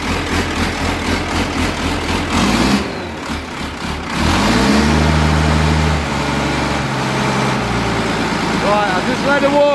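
An engine cranks over, catches and settles into a steady low idle, warming up with a rough, rumbling drone; a brief dip as it starts, then continuous running with a voice speaking over it.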